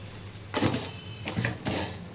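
Thick besan curry stirred in a metal pot, with three scraping clinks of a spoon against the pan at a steady pace, close and clear against quiet background hiss.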